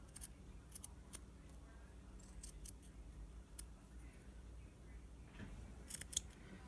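Scissors snip through Dollar Tree lace in a few sparse, faint, close-up cuts and crisp clicks over a quiet room background.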